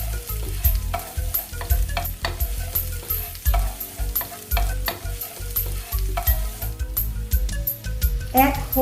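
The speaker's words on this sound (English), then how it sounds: "in a clean wok over high heat, add some canola oil and saute the chopped garlic, ginger, and dry red chilies" Chopped garlic, ginger and dry red chilies stir-fry in canola oil in a clean wok over high heat, with close, strong sizzling and frequent scraping tosses of the spatula.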